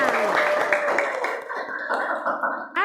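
Classroom students clapping their hands together, a dense patter of many claps with chatter and voices mixed in, fairly close and steady, ending abruptly.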